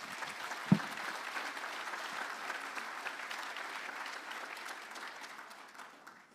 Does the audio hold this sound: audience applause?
yes